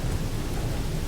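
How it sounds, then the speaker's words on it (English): Low, rolling thunder rumbles under a steady wash of heavy rain during a blood-rain storm in Pathfinder: Wrath of the Righteous, dense and continuous with no voices. "Whoa, lightning, blood rain."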